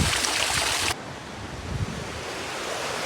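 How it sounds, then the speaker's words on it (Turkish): Mineral spring water rushing along a rocky stream bed near Kuzalan Waterfall, a steady broadband wash that starts loud and bright for about a second, then continues as a softer, duller flow with outdoor wind noise. "Vay be bu su akıp gidiyor baksana"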